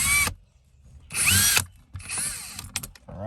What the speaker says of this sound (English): I'm unscrewing it this way